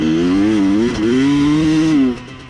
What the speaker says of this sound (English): See that right there? I was going full throttle and it just couldn't keep up.